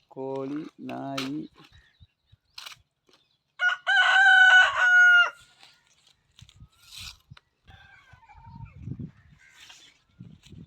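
A rooster crows loudly nearby at a rural palm-grove hut, a long ringing call, with a shorter squawk before it and faint clucks and scattered noises after.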